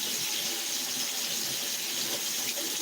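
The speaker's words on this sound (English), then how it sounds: "I'm gonna turn on the water so y'all can't hear nothing" Tap water runs steadily from a faucet at close range, a dense, even hiss that fills the short stretch with no voices over it.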